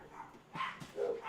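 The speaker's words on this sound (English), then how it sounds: "dogs are freaking out" Dogs barking indoors, a few faint yips and barks in quick succession, somewhat distant and thin.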